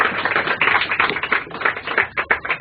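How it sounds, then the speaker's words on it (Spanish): A church congregation claps for the Lord in a steady, dense rhythm, loud and close, with no talking over it. "Dele palmas al Señor si usted lo cree."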